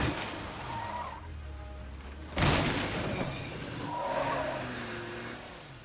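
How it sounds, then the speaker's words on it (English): In State of Decay 2, a car reverses into a crowd of zombies: engine revving and tire noise, then a sharp crashing impact midway, followed by more engine drone and skidding. "I'm kind of just going to group them all up and we're just going to back over them."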